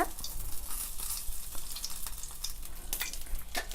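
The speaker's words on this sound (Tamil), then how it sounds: "இதுமாரி ஒரு சிக்கனாக வறுத்து எடுத்துக்கணும்" Chicken lollipop pieces deep-frying in hot oil give a steady, close crackling sizzle with scattered sharp pops, and no voices.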